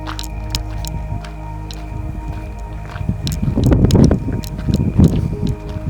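Gusty night wind buffeting a microphone at the Grand Canyon, a low rumbling roar that swells in strength midway, mixed with scattered clicks and light rustling.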